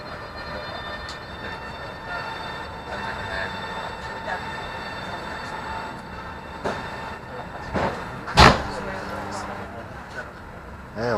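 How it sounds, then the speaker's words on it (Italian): Italo high-speed train pulling out of Venice station, a steady rolling rumble with a sharp brake or wheel squeal burst near the end, with station chatter in the background. "Sta partendo Italo."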